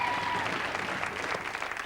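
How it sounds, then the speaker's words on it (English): A studio audience at the 1992 Blockbusters game show claps in a dense, even burst of applause that fills the short moment without a break, with no voices over it. "give him a clap while he does so"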